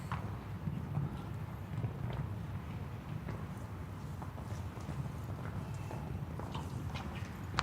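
Horse hooves clip-clopping on the footing of an outdoor show jumping arena as the stallion canters, a quick steady rhythm of muffled beats heard near and continuous.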